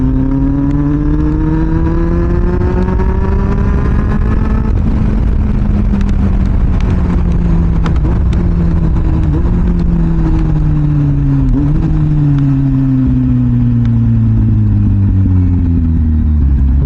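A Kawasaki Z800 inline-four motorcycle drones loudly and continuously while riding, its engine pitch climbing and sliding through gear changes, with faint scattered crackles from the exhaust.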